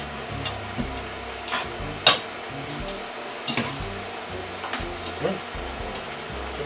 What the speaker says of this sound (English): you have a pasta fork. You just toss that around. You want to get that butter on every single one of the noodles